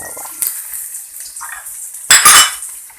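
A metal spoon stirs ginger, onion and garlic in a pan, with a few sharp scraping clicks and a louder burst of clattering near the end over faint sizzling, close up, no talking.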